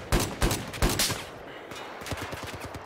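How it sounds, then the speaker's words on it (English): Unica pistol fire in the video game Battlefield 4 comes as several rapid, punchy shots in quick bursts, followed by a string of lighter, faster gunfire further off. "Nice shots there from the Unica."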